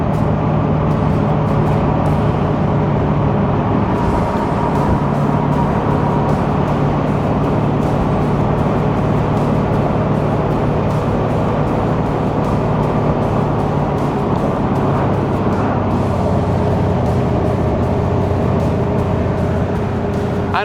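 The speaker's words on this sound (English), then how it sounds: "this is my first time driving a 1934 Packard out on the country roads" A 1934 Packard Eight convertible is driven on country roads, its engine giving a loud steady drone with wind and road rumble, constant throughout.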